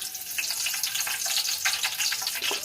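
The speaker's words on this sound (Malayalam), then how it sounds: "ഇപ്പം കടുകൊക്കെ പൊട്ടി." Mustard seeds and curry leaves sizzle in hot coconut oil for a Kerala chicken curry, a steady, fairly quiet crackling hiss with scattered sharp pops throughout.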